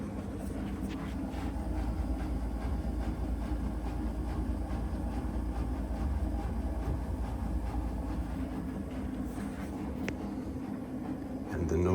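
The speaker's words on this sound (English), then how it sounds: "We are now in the spin cycle." A Miele WTR 870 WPM washer-dryer spins at full speed, 1200 rpm, a continuous loud whirring rumble with rattling mechanical noise, steady throughout with no pauses.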